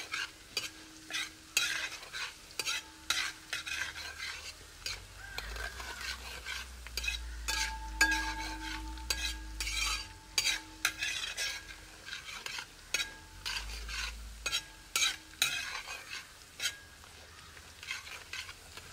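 Five large, finely chopped onions stirred and fried in a pan for a Kerala-style crab roast: steady sizzling under repeated scraping spoon strokes, close and fairly quiet, with no talking.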